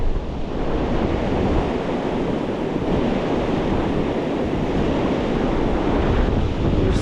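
Ocean waves breaking on a beach with riptides and sneaker waves, a steady loud wash of surf blended with gusty wind noise on the microphone, continuous throughout with no talking.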